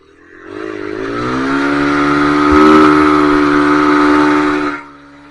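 A motorcycle engine revs steadily and loudly on a slippery open track, its pitch climbing slightly toward a peak midway before cutting off; no voices.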